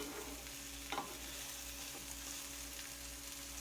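Diced onions and banana pepper tops sauté in a pan, a soft, steady sizzle with an occasional faint stir, quiet and close, with no voices.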